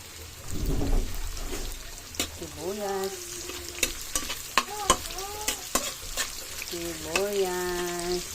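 Tofu, bean sprouts and onion stirred together in a pan for lumpia filling, giving a wet scraping rustle with sharp utensil clacks, while a voice speaks over it.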